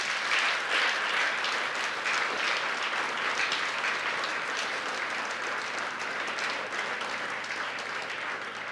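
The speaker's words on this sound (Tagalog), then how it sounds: "ibigay nyo ng buong buhos ang palakpak para sa dangal ng kanyang pangalan." A church congregation bursts into sustained, full applause praising the Lord, a dense, steady wash of many hands clapping that holds evenly for the whole stretch without letting up.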